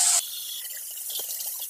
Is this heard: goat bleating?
no